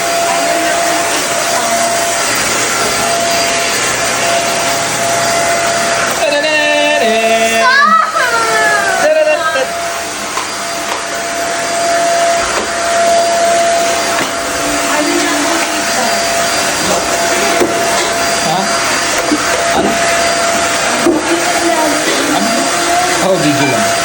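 A household vacuum cleaner drones loudly and steadily throughout, its pitch shifting briefly as it moves, while a child and an adult talk over the motor noise.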